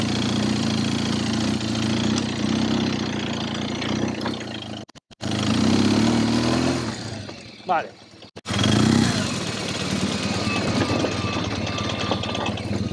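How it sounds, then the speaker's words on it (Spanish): A motorcycle, a large adventure bike, revs and idles nearby with brief cutouts while riding downhill off-road over a rut, as a person speaks over it. "La moto va bajando"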